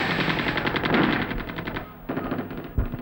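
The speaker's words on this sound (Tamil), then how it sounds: "துப்பாக்கி சத்தம்" Machine gun fire in rapid sustained bursts, loud and close, with a short pause before another burst and a heavy thump near the end, set in an action film scene.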